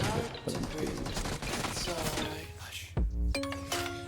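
Rapid bursts of gunfire from a BGMI battle-royale match inside an apartment building, dense crackling shots filling the first three seconds, then a loud close impact followed by ringing game tones.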